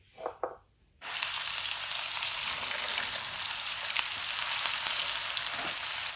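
Cauliflower florets and green peas fry in oil in a karahi over medium heat. A few light clinks come first, then a continuous, even sizzle sets in and holds to the end.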